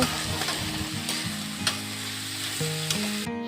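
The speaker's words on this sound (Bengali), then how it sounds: "সমস্ত কিছু খুব ভালো করে নেড়ে নিয়ে" Shola kochu (taro) fries in oil and is stirred in a pan, giving a continuous close sizzle broken by several sharp scraping clicks of the spatula, with a low hum underneath and no speech.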